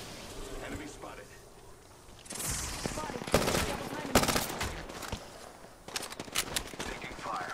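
Automatic gunfire in the battle royale shooter Apex Legends, bursts rattling close and loud through the middle of the stretch, with a player talking over the shooting.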